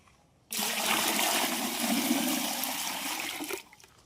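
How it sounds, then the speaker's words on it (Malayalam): A steady gush of water pouring into a ten-litre bucket, filling it halfway, for about three seconds, loud and close, starting and stopping abruptly. "ഞാനൊരു അര ബക്കറ്റ് വെള്ളമാണ് ചേർക്കുന്നത്"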